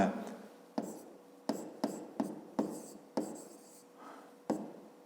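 Chalk or pen strokes tapping and scraping across a board during a fifth-grade math lesson on angles, a run of about eight sharp, close taps with short scratchy trails in a quiet room.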